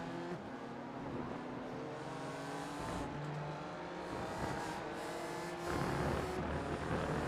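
BMW M4 race car at Misano World Circuit, its engine droning steadily with shifting harmonic tones as revs rise and fall, loud and continuous, with other racing cars mixed in and a brighter surge near the end.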